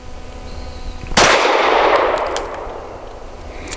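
A single loud pistol shot from a Walther PDP 5-inch Compact, a sharp broadband crack with a metallic ring from the steel target that fades over about two seconds, heard alone.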